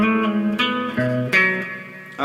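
Distorted electric guitar plays the intro section of a song, a run of loud sustained chords that change several times and ring out alone, with no voices over them.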